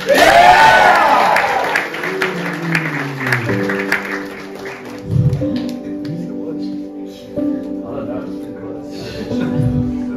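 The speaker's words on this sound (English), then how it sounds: "Round of applause for them." Applause and crowd noise from an audience, with an announcer's voice and music playing over it throughout.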